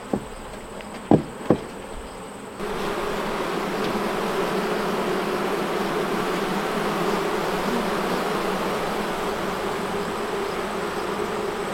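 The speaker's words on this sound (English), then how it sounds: "Listen to that hive, it is jamming." A few sharp knocks in near quiet give way to a loud, sustained buzz from a busy honeybee hive, a thick constant drone that fills the rest of the stretch.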